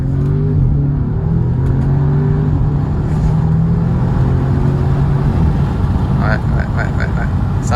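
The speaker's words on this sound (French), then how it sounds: "on entend la voiture" An Audi S3 310 hp engine with manual gearbox drones steadily at low pitch, rising slightly as it revs, with a faint voice near the end.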